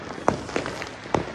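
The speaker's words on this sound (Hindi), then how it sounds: "देखो कैसे पटाखे फूट रहे हैं" Diwali firecrackers go off as three or four sharp, cracking pops in quick succession, moderately distant against a steady outdoor hiss.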